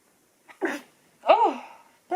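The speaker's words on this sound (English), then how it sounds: "I also really need to sneeze." A single close sneeze, a short intake followed by a sharp burst, alone in a quiet room, with the start of another sound at the very end.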